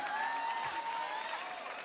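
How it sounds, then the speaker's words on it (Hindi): A television debate audience claps during a live Hindi political discussion program, a dense steady wash of applause mixed with crowd noise and a tonal undertone, continuous and fairly loud for the whole stretch. "ताली बजाइए भाई"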